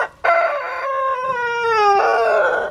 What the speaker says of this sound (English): scaring the chickens at the gate